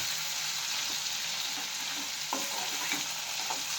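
Pumpkin frying in a pan for a coconut curry, a steady close sizzle with occasional scraping stirs and light clinks, no voices.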